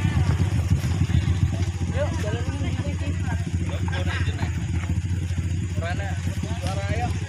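Trail motorbike ridden on an extreme off-road track, its engine a steady, close drone with rough clattering texture throughout, while people talk over it.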